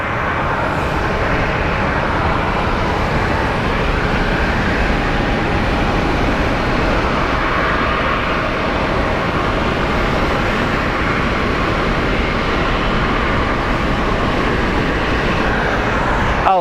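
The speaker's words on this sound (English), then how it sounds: "There's an American 737. It's going to be taxiing across the runway" An American Boeing 737 taxis at Phoenix Sky Harbor International Airport, its jet engines producing a broad, continuous roar with a faint steady whine, loud and sustained throughout, no voices heard.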